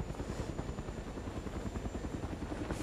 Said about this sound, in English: I see your helicopter flying away.